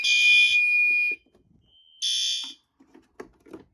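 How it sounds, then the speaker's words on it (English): A security alarm panel buzzer sounds in two loud, shrill electronic bursts, the first about a second long and the second about half a second, with faint clicks and handling noises between and after them. "This is loud. This panel buzzer."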